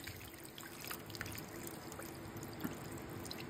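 Water trickles and pours faintly into a pressure cooker while pork humba is being prepared in a kitchen, a soft continuous liquid splash with a few small drips, heard alone without voices.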